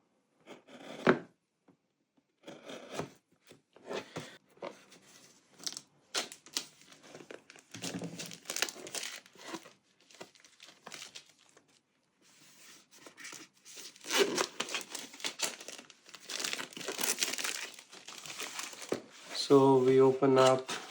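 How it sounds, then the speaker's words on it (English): A knife slits and peels the cellophane wrap off a DJI Mic 2 box, giving close, intermittent crinkling and sharp crackles in bursts, louder toward the end. "So I'm going to use a knife again and going to open up the cellophane."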